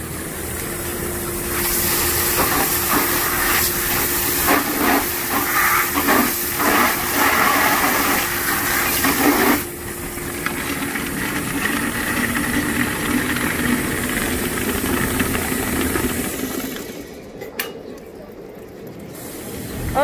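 A milking system's wash cycle pumps a soap blend through the lines, giving a steady hissing, spraying flow with a faint hum that drops and shifts partway through.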